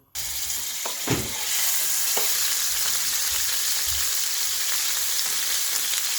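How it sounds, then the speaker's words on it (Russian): Meat for goulash frying in a pan: after a couple of clattering knocks, a constant close sizzle and hiss fills the rest, with no talking. "Я буду сегодня обжаривать мясо."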